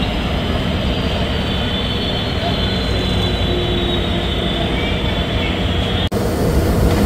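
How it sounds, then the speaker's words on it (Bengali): The Barendra Express, running from Chilahati toward Rajshahi, rolls into Santahar station with a loud, continuous low rumble and roar of the train passing close by, steady throughout with a brief dropout near the end. "প্রবেশ করছে বরেন্দ্র এক্সপ্রেস।"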